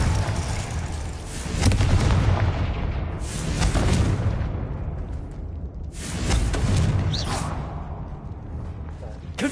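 Repeated booming spell blasts in the Hogwarts Legacy video game, several loud explosive bursts with whooshing tails spaced a few seconds apart, layered over game ambience and a speaking voice.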